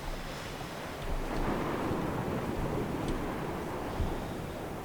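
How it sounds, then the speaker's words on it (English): Wind gusting over ocean surf on an island coast in the video game Dear Esther, a steady broadband roar of waves and wind that swells after the first second and holds without speech. "Oh, it's windy."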